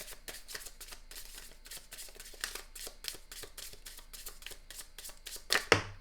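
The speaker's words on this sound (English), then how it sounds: "Let's do one more shuffle." A deck of tarot cards is shuffled repeatedly in quick, rhythmic riffles, close by, ending with a sharper snap of cards.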